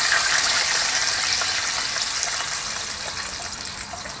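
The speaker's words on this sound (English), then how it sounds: "Now that we got the fat in there, let's go ahead and add some water." Water is poured into hot fat on a Kamado Joe grill, and it sizzles and hisses loudly and harshly right at the start, then the sound eases slightly over a few seconds.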